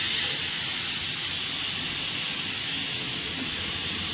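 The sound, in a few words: steam hissing from pressure cooker whistle being pulled open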